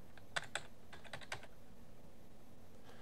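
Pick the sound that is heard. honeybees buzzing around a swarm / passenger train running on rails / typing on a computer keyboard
typing on a computer keyboard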